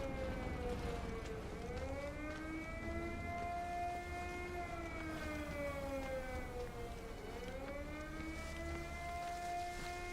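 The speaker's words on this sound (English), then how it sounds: "That's the alarm." A wailing alarm siren sounds at a launch site in the video game Sniper Elite: Resistance, its pitch slowly rising and falling in long sweeps over ten seconds, distant and moderate in level, alone without speech.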